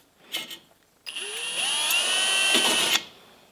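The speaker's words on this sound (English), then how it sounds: "you're going to get your drill with your spot weld drill bit" A power drill with a spot weld bit whines up to speed and grinds steadily into a spot weld on a crashed Toyota 86, the bit wandering, for about two seconds, preceded by a brief short buzz.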